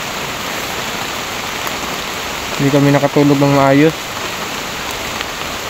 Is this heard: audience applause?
no